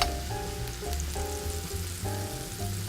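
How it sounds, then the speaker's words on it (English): Onions sizzle and crackle steadily in a hot pan, close up, with faint scraping from stirring. "I'm gonna saute my onions till they get a little caramelized."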